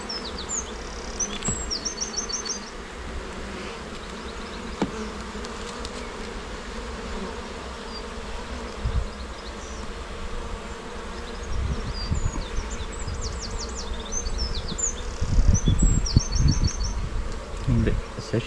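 Honeybees from an opened split box hive buzz continuously during an inspection, a dense steady drone with individual bees whining past close by and occasional bumps and knocks from handling frames.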